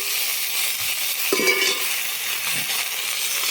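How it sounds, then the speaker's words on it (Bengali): Potatoes and dried red chillies frying in hot oil, a loud, even hiss of sizzling close by, with a brief stirring knock, no voices. "তেল গরম হয়ে গেছে, শুকনো লঙ্কা দিয়ে দিলাম, এরপর আলুগুলো দিয়ে দিচ্ছি"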